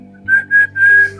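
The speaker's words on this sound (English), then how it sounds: "Loudly whistling." Loud whistling voiced during a tabletop horror role-playing session: three sustained bright whistled notes in a quick run, with a low steady hum underneath.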